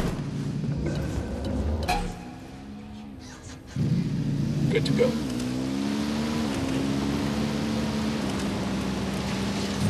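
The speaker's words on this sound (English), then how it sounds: "I'm hearing engine noise" Vehicle engine noise in the video game Ghost Recon Wildlands, a steady droning rumble that drops briefly then surges back and holds for several seconds, with a short spoken line over it.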